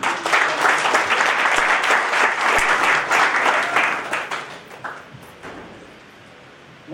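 Audience applause from a crowd during a French-language episode, dense steady clapping that holds strong for about four seconds, then thins out and fades to near quiet toward the end.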